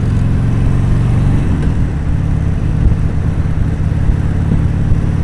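A Harley motorcycle engine lugs in third gear at about 35 on Sunset Boulevard in Los Angeles, a steady, loud low-pitched rumble that holds throughout with no talking.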